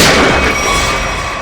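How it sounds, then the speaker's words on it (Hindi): A gunshot goes off inside an office in a TV crime drama, heard as one loud, close blast that rings out and slowly fades away. "अंदर से 2 गोलियां चली है"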